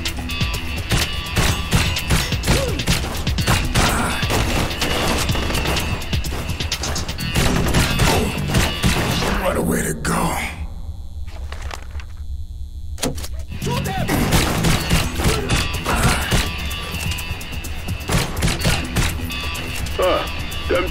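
Gunfire in the video game Blue Estate: loud, dense shots and crashes go on almost the whole time. They break off into a near-silent gap of a few seconds near the middle, then carry on.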